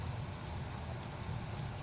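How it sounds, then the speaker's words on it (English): Heavy rain pours onto an outdoor tennis court during a men's final, a dense, steady hiss and patter that fills the air evenly with no voices over it. "You can see how hard it's raining."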